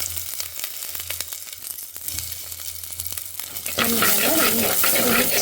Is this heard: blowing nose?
no